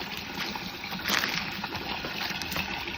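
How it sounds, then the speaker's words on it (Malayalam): Water runs steadily out of an opened pipe at a fish pond, a continuous rushing, splashing flow at moderate loudness with no talking. "അതെന്തിനാ ഇപ്പൊ തുറന്നേ ആ പൈപ്പ്?"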